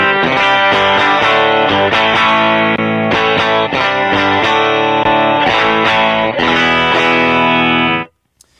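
Electric guitar played through a daily driver effects pedal on a pedalboard, sounding as steady, loud strummed chords with a slightly driven edge for about eight seconds before a sudden stop, with no voice present.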